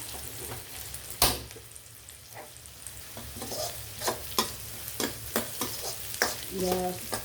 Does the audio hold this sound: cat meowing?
no